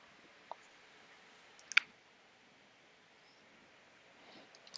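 A computer mouse clicks during email server setup: a couple of sharp, quiet clicks, one isolated and a brighter pair a moment later, over near-silence with a faint click at the end.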